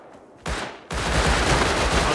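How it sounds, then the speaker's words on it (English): Gunfire in the survival video game Rust: a quiet lead-in, then a sudden burst of sustained, dense shooting that stays loud and continuous to the end, with no talk over it. "getting shot at."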